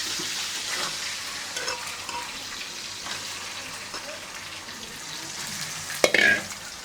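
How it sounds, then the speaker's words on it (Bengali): Eggs seasoned with turmeric and salt fry in a pan, giving a soft, steady sizzle close by, with a brief louder clatter near the end. "ডিমগুলো ভেজে নিচ্ছি, প্রথমে দিয়ে দিচ্ছি হলুদ আর লবণ"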